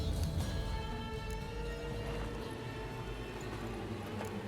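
Horse hooves clip-clopping in The Witcher 3: Hearts of Stone, a steady run of fairly quiet, regular hoofbeats over a low game ambience with no talk.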